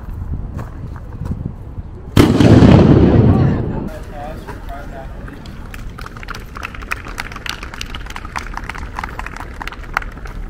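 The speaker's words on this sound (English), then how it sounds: "I arrived on time to see the rifle demonstration" Rifle volley fired during a historical demonstration at an outdoor historic site in Halifax, Nova Scotia, a single loud boom with a long rumbling tail, followed by a crowd murmuring and moving about at a distance.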